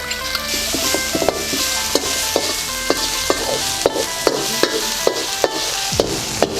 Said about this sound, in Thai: ใส่หมดเลย ผัดผัดให้หอมเลยอ่ะ